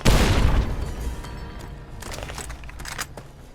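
A grenade blast in the game Fallout: New Vegas, a loud booming burst that rolls off into rumbling debris and a few crackling pops over roughly three seconds.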